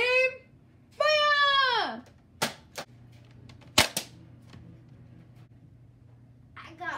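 Nerf blasters firing foam darts in a backyard-style point battle: a few sharp, separate pops spaced a second or so apart, with excited children's voices and squeals around them.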